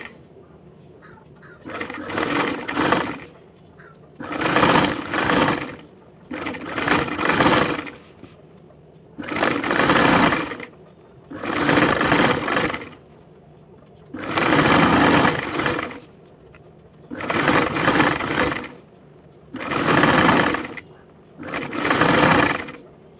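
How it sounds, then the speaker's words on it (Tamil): A sewing machine stitches a double-folded saree edge in nine evenly spaced bursts of fast, close mechanical whirring, each lasting a second or two and separated by short pauses. "டபுள் ஃபோல்ட் பண்ணிவிட்டு அப்படியே வந்து நம்ம ஸ்டிச் பண்ண வேண்டியதான்."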